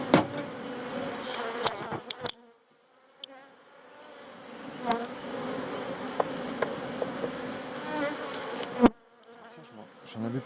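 Honeybees buzzing around an open hive during an inspection, a dense steady hum with a few sharp knocks and a brief quiet gap partway through.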